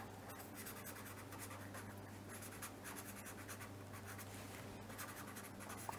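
A pen scratching out a handwritten label, a steady close scribbling texture of short strokes over a low constant mains hum, with no voices.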